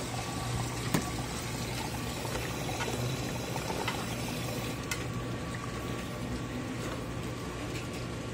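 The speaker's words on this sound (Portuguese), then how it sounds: "Esqueci de pôr sabão aqui, tá enchendo ainda." A washing machine in a laundry room with many running washers fills with water, a steady rushing, bubbling flow of near, constant loudness throughout, with no one talking.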